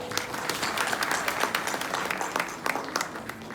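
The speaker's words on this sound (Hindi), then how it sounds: "एक बार फिर से इन सभी बच्चों के लिए जोरदार तालियां।" An audience at a school annual day claps for the children, producing a steady, fairly close patter of applause with individual claps standing out.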